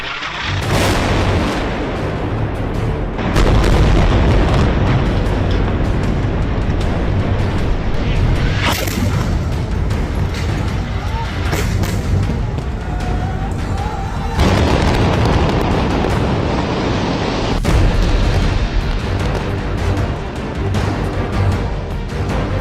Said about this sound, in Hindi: गाजा पर इजराइल के हवाई हमले